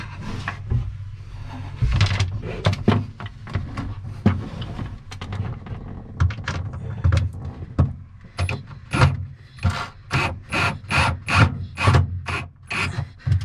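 A screw is driven by hand into a boat's mounting surface to fit an onboard battery charger, making close, rhythmic rasping creaks and squeaks that grow into evenly spaced turning strokes toward the end, with no speech.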